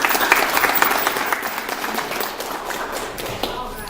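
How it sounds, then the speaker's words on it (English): A room of attendees at a Kiwanis club meeting gives a sustained round of applause, many hands clapping in a dense, even patter that holds steady and eases slightly toward the end. "I think he deserves a round of applause for what he has done for the Kiwanis"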